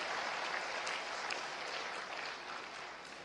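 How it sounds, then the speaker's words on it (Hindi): Students at IIT Delhi applaud in a large hall, a dense, steady wash of clapping that holds throughout and eases slightly toward the end, with no talking over it. "ताली ताली बजाओ, सब ताली बजाओ।"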